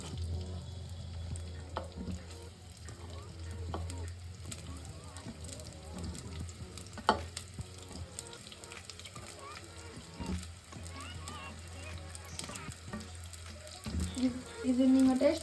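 Onions sizzle in a pan for mutton liver gravy while being stirred, soft crackling frying under scattered utensil scrapes and clinks, with quiet background voices and a brief louder clatter near the end.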